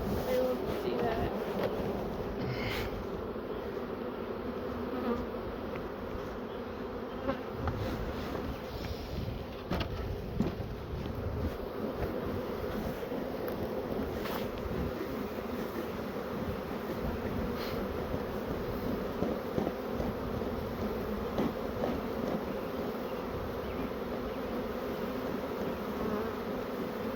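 Honeybees hum steadily in a dense swarm around a hive box, a continuous close buzz that lasts throughout, with occasional voices and handling noise.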